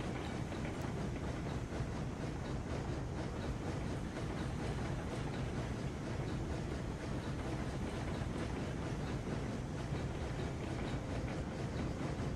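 Steam locomotive in the game Railroads Online rolling slowly, around 10 mph, over a dipped stretch of track; a steady, dense rumble with faint rail clatter that holds at an even loudness throughout, with no voices.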